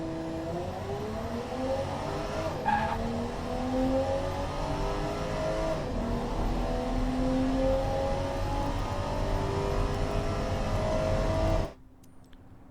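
A 1993 Athena CS5 with a turbocharged engine, simulated in the car-building game Automation, revs steadily for about twelve seconds, its harmonics sweeping up and down before it cuts off abruptly.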